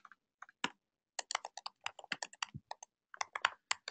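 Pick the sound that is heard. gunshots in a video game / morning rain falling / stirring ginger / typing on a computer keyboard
typing on a computer keyboard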